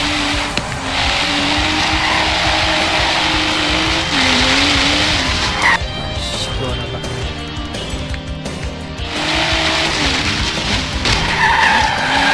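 A BMW M4 in Forza Horizon 3 drifts with loud, sustained tire squeal and skidding over a revving engine, easing briefly midway before the screech returns, with a voice talking faintly underneath.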